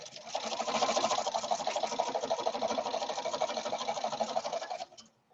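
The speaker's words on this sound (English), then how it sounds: "continue to stitch across the end of that seam" Sewing machine stitching across the end of a seam on a paper-pieced quilt block, a close, rapid, even whir of needle strokes lasting several seconds before stopping abruptly.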